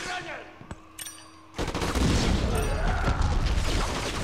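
Gunfire and a grenade blast in the PS2 shooter Black: scattered shots and clanks give way to a sudden loud explosion and sustained rattling automatic fire, with a voice speaking briefly early on.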